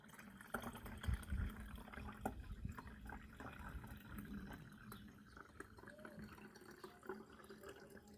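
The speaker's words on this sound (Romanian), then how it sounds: "Și vom completa cu apă până la 2 litri." Water pouring into a garden pump sprayer holding nettle infusion, topped up to 2 litres; a faint, gurgling trickle with scattered drips and splashes, close by and unaccompanied by talk.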